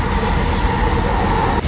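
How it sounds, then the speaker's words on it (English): Inside a SkyTrain metro car while riding, a loud steady rolling rumble with faint wheel rattle and a tonal hum, continuous from start to finish. "I was traveling in train, SkyTrain."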